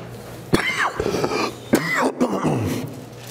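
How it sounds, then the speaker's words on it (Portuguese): A person coughs and clears their throat in two rough bursts during a spoken religious Bible reading, close and fairly loud with no other talk over it. "Nossa, tosse."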